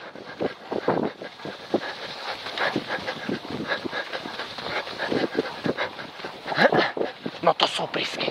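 Sled dogs barking and whimpering outdoors while mushing, with wind noise over the microphone; a musher calls out commands over the dogs throughout.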